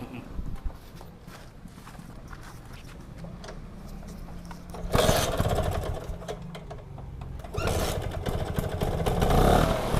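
A 1966 Vespa Super scooter engine under restoration starts at about five seconds and runs with a loud, buzzing, clattering idle, briefly dropping off near seven seconds before picking up again. Faint handling noises come before the start.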